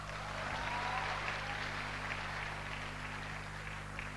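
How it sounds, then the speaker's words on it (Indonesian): An audience applauding at a storytelling talk makes a steady wash of clapping that holds evenly for several seconds. It sounds somewhat distant and faint, with no voices over it. "Oke, tepuk tangan untuk Anda semuanya."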